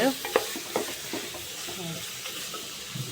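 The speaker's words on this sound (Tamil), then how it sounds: "கொஞ்சம் நல்லா கிண்டி விட்டிங்கன்னா நல்லாயிருக்கும்" Biryani being stirred in a cooking pot, with repeated scraping strokes of a spoon against the pot over a soft sizzle, close and fairly quiet, no talking.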